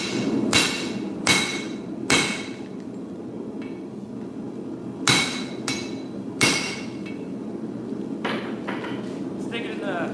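Hot random-pattern Damascus steel billet hammered flat after forge welding, with loud ringing hammer strikes at irregular intervals, some single and some in quick pairs, over a low roar of background noise.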